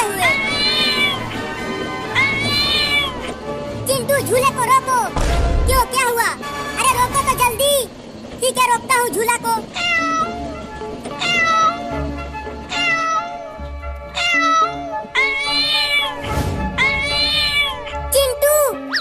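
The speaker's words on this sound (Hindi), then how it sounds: "ये बिल्ली इतना बोल क्यों रही है" A cat meows repeatedly and insistently, with long wailing cries in a rhythmic series, while children talk over it.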